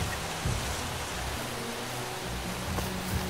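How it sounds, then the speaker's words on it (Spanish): Steady rainfall in the video game Far Cry 2 hisses continuously, an even wash of noise with occasional faint patters, no talking over it. "¡ay, por fin! Bien, lluvia."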